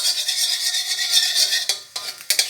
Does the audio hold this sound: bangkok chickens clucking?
no